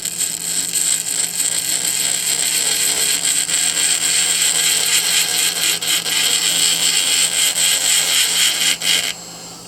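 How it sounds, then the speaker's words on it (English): An aluminum oxide grinding wheel polishes a Dendraster gibbsii sand dollar fossil from Southern California, giving a steady, loud abrasive whir and rasp that runs continuously close by and cuts off near the end. "use the aluminum oxide sanding wheel first. Grinding wheel, whatever it's called."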